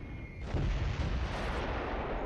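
Mortar and artillery fire in the WWII strategy game Close Combat III, a dense rumbling barrage of low booms rolling on continuously, heavy and moderately distant, with no talk.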